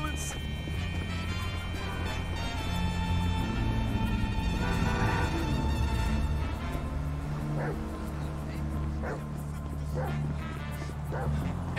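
A dog in the video game Grand Theft Auto V barks and yips several times over a dense bed of music and background noise, with a few quick bursts near the end.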